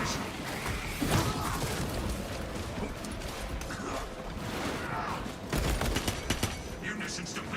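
A servo gun in the Warhammer Skulls video game fires in sustained bursts, dense rattling gunfire with mechanical clanks and crashes, loud and continuous, under a spoken game voice.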